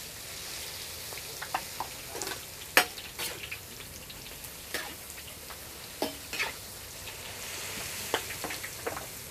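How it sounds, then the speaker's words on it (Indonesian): Oil sizzles steadily as food fries on a stove at a street stall selling rice and eggs beside an old church, with scattered clicks and scraping stirs over a constant hiss. "Goreng terus pokoknya ini."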